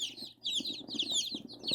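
A box of newly shipped baby chicks peeps continuously, a dense flock of high, shrill chirps overlapping in quick bursts close by.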